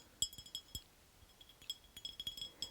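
Delicate glass clinks from a Galileo thermometer ring out in small scattered clusters, high and bright, with quiet gaps between them, close by and faint.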